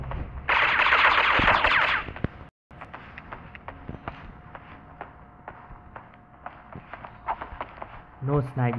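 AUG rifle fire in the mobile shooter Critical Ops, with scattered sharp single shots and short bursts spread over several seconds, moderately loud, alongside footsteps and other game noise, while someone talks over much of it.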